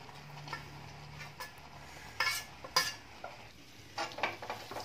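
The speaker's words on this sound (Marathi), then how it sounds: "चांगलं ढवळून घ्यायचं आहे" A spoon scrapes and stirs crumbly milk curds (chena) in a pan for kalakand over a low flame, in irregular close strokes with a few sharper clinks against the metal.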